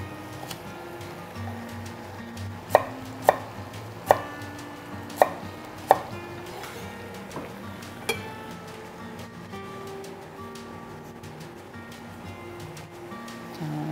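A knife chops carrots into sticks on a cutting board while a minestrone soup is prepared, about five crisp, evenly spaced taps close by, then a quieter stroke and faint kitchen background.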